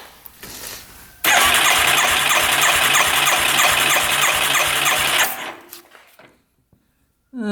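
A cheap, broken-down used ATV with a carbon-fouled spark plug revs loud and steady with the throttle held open for about four seconds, then winds down and cuts out into near silence.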